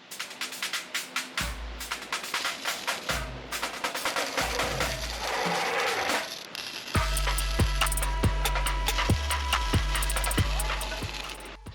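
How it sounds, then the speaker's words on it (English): Tack welding a V-band clamp onto an exhaust header of a 4.8 Mustang GT, with crackling welding arcs sounding in repeated short bursts and then a longer sustained buzzing stretch, close and fairly loud. "So now we're gonna go ahead and tack on the second half of the V-band straight to the header."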